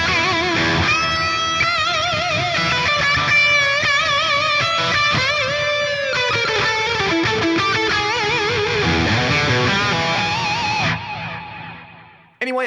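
A distorted electric guitar through a Fractal modeler emulating a 1977 Marshall, with plate reverb, plays a sustained, singing lead line with vibrato and bends, loud and alone, fading out at the end.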